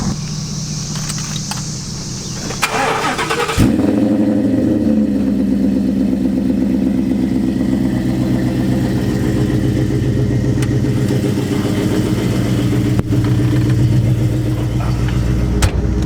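A Ford Foxbody with a Coyote V8 swap and Flowmaster 40 exhaust fires up after a few seconds of quiet, then settles into a loud, close, steady idle with a deep, even burble.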